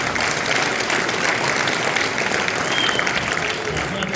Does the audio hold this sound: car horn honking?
no